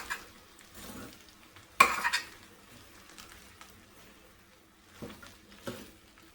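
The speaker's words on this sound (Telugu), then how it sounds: "ఇలా పులియోగరి అంతా అన్నానికి పట్టేట్లాగా మనం కలుపుకొని పెట్టుకోవాలి." Cooked rice is mixed with puliyogare tamarind paste in a vessel, producing soft, sparse scraping and stirring strokes with a louder clatter of the spoon partway through.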